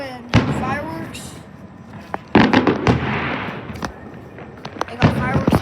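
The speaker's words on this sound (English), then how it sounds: "They got fireworks out here." An outdoor fireworks display at a hotel, with several sharp bangs and a cluster of crackling bursts spread over a few seconds while people chat close by.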